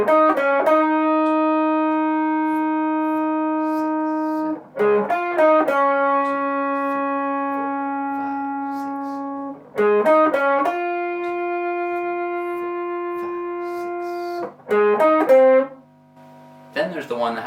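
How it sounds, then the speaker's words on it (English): Distorted electric guitar plays a funk chorus hook: sustained, buzzy chords held for several seconds, broken by short rhythmic chord stabs, loud and close with no voice over it. "The chorus guitar part goes like this."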